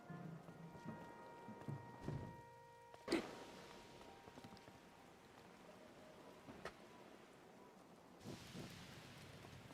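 Steady rain falls in Zelda: Tears of the Kingdom, a soft, continuous patter with a few sharper thumps and a brief swell of noise near the end, fairly quiet throughout.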